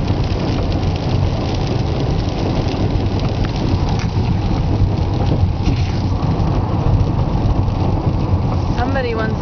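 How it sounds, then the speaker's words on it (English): Rain falls steadily outdoors near a lake, a dense continuous hiss and patter with low rumbling in the background throughout, fairly loud and unbroken. "Somebody wants to get wet in the rain."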